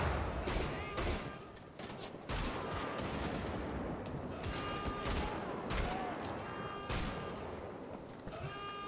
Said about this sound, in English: Just shooting some heads off.